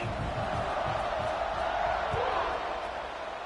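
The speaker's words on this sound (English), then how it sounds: "this crowd is buzzing after that last score" A football stadium crowd keeps up a dense, continuous roaring buzz after a score, loud and steady throughout with no pauses.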